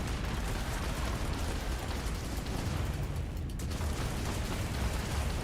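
Ship weapons fire hitting a spacecraft in the Starfield video game, heard as dense, continuous rumbling blasts and bursts that stay loud for the whole stretch with no clear gaps.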